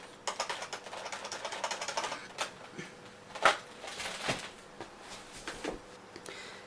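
Keys on a computer keyboard are pressed in uneven bursts of close, crisp clicks, with a few louder taps among them and no talk.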